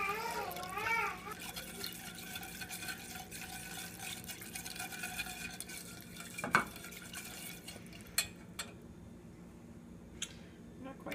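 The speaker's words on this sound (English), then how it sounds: "slowly add my milk, I guess because I'm supposed to warm it up" Milk is poured slowly into a pan for homemade mac and cheese, a soft continuous liquid trickle with occasional light clinks of a utensil against the pan.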